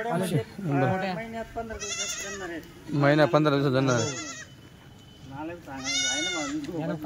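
Kathiyawadi goats bleat repeatedly in wavering, nasal cries, close by, mixed with people talking over them at a goat sale.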